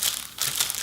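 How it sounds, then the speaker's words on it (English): Cellophane wrapping crinkles and crackles loudly and close during the unboxing of a Traeger Ranger grill, a continuous rustle with a short dip in the middle. "this is some quality cellophane."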